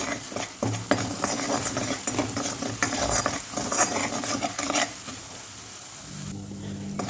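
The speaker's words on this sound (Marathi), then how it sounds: "चवीपुरतं मीठ टाकून घ्यायचं आहे आणि अर्धा चम्मच हळदी हे सगळं आपण मस्त फ्राय करून घेऊ" Spice paste seasoned with salt and turmeric frying in a pan, a dense continuous sizzle with scraping stirs and a few clinks, close up, quieting near the end.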